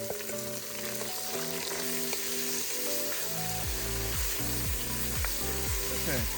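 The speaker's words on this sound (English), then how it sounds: "The lamb is browning up nicely." Lamb sizzles as it browns in a cast-iron potjie pot for a South African curry afval, a steady frying crackle under a rising, stepping tonal drone of engine-like pitch changes, with no talk.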